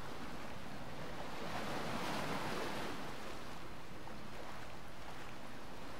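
Sea waves surge steadily in the open water of Gothic 2, a continuous washing roar of surf with a faint wind-like hiss, unbroken for the whole stretch and with no voices.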